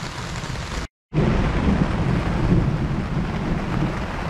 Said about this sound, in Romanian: Deja plouă, focul meu mi se stinge.